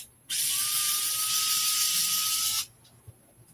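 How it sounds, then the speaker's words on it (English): A power driver whirs in one loud, steady burst of about two seconds, backing screws out of an RC truck up close, with no talk over it. "a couple more screws and we can get this bad boy off"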